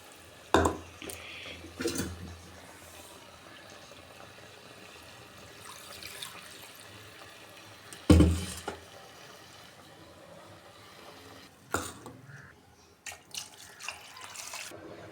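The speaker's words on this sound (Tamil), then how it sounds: "இப்போ தேவையான அளவு தண்ணி ஊற்றிடலாம்." Several short bursts of water splashing and pouring into a cooking pot, separated by quiet gaps, close by with a few light clinks.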